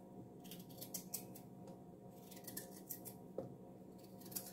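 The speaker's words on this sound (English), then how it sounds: "I'll just cut the carrot like this." A kitchen knife cuts through a raw carrot held in the hand while cooking Jamaican-style curry chicken foot. It makes a string of quiet, crisp snipping clicks at an uneven pace, faint against a low steady room hum.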